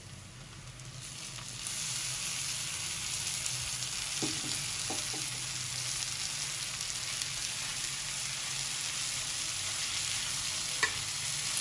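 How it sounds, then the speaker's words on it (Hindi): Pre-fried fish pieces for a fish katakat dish are tipped into hot masala in a pan, which sizzles and fries steadily close by, broken by a few soft clinks and stirring scrapes, with no one talking. "अब हम इसमें डालेंगे मछली"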